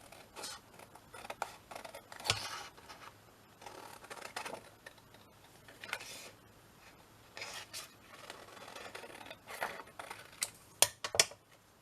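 Scissors snip through a printed paper sheet in a papercraft pocket project, a run of quiet, close crisp cuts and rustles that comes in short irregular bursts with brief pauses, ending in a couple of sharper snips.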